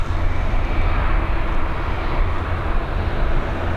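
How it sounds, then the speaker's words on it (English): A Ryanair Boeing 737 from Nice lands on runway 28L at Dublin Airport in the evening, producing a loud, steady jet roar with broad rushing noise that continues unbroken throughout. "Here we go, we've got this Boeing 737 operated by Ryanair coming in from Nice."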